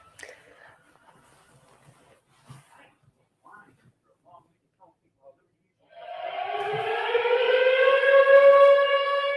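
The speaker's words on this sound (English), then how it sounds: "Always need the air raid siren." A loud wailing air raid siren rises in at a Maple Leafs at Hurricanes hockey game after several seconds of faint, sparse sounds and holds steady, bright and sustained to the end.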